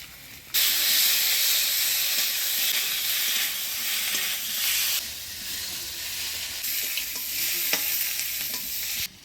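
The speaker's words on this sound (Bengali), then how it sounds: "আদা বাটা দিয়ে সজি কচুর সাথে ভালোভাবে নাড়াচাড়া করে নিলাম" Taro stirred with ginger paste in a hot frying pan: a loud, dense sizzle begins abruptly, with occasional spatula scrapes and a brief dip partway through, and no voices.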